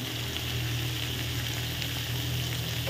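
Adobo flakes frying in a pan, giving off a steady, close, continuous sizzle with a low hum underneath and no voices.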